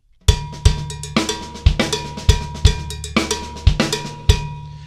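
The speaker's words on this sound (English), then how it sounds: "And now we're putting an accent, rim shot, nice and solid on beat four." Drum kit playing an inverted paradiddle funk beat, with kick drum thumps and busy hi-hat sixteenths plus a solid rim shot accent on beat four, repeating in a tight loop, loud and without voices.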